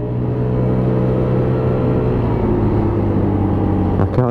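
An AJS Firefox 50cc motorcycle engine on a test ride, droning steadily at low speed with a constant buzzing hum and a small change near the end.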